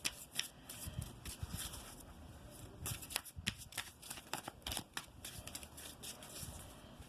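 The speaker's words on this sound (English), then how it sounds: "let's take 4 cards for you" Tarot cards being shuffled by hand at close range, a quick irregular run of soft riffling flicks and slaps, quiet and alone without speech.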